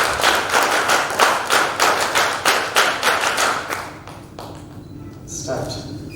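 A group claps in unison for a media photo at a Silver Jubilee ceremony, rhythmic synchronized claps ringing loudly for a few seconds before stopping, with voices underneath and after.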